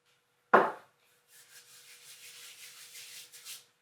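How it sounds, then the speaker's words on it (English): Bread dough for a no-knead loaf is worked by hand, with one sharp slap followed by soft, sticky rubbing and squelching as it is stretched and folded, close and quiet with no talk. "all I'm doing is grabbing the dough, stretching it out, folding it back over itself"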